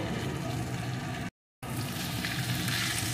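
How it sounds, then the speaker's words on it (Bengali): Cauliflower curry frying in a pan after sugar is added, producing a dense, steady sizzle that cuts out briefly before resuming just as strongly. "চিনি দেওয়ার পরেও কিছুক্ষণ ভালো করে ভেজে নিয়েছি"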